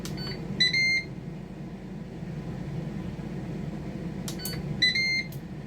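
A Ninja 15-in-1 multicooker gives two sets of bright electronic beeps as it switches to sear sauté, separated by a steady low hum from the appliance.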